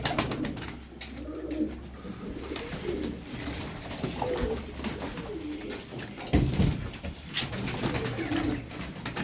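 Thirteen Turkish tumbler pigeons cooing repeatedly nearby, soft throaty calls coming in irregular bursts amid light rustling and background noise.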